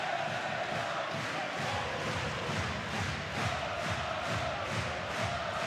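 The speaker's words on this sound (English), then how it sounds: "And that's got the crowd going once again here." Dense, loud crowd roar filling a basketball arena during a Basketball Champions League game between Anwil Wloclawek and Rasta Vechta, sustained cheering with rhythmic chanting pulses throughout.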